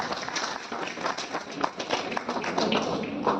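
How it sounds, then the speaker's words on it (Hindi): An audience at a public gathering claps in a continuous, fairly even patter of many hands, moderately loud, with faint voices mixed in. "एक बार जोरदार तालियां बजा दीजिए"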